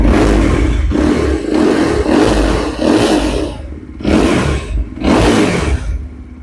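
Motorcycle with dual headlights and dual taillights revving up near the listener in repeated loud bursts, about four throttle blips with short easing dips between, engine rumbling steadily throughout with no talking.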